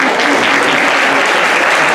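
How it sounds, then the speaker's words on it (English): An audience applauds at a language-learning conference talk, a dense, steady wash of clapping filling the whole two seconds with no speech over it. "please give her a round of applause"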